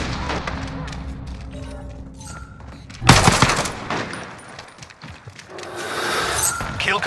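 Gunfire from the video game Call of Duty Modern Warfare erupts in a loud, dense burst midway through, over a steady bed of game noise.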